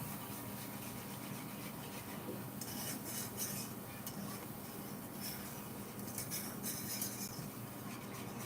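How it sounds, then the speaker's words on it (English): Heavy whipping cream is whisked into a sauce with steady scraping and rubbing of a whisk against a pan over a constant background hiss of cooking. "some heavy whipping cream. And I'm gonna whisk it in"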